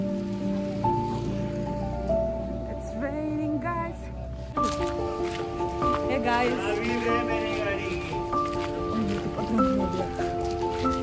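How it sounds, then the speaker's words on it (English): Rain falling on an outdoor street in India, a steady hiss heard throughout under louder music with sustained tones and faint background voices. "It's raining, guys."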